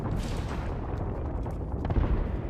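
Bomb blast in a video game, a dense low rumbling boom sustained through the clip with a stronger surge near the end, loud with no clear talk.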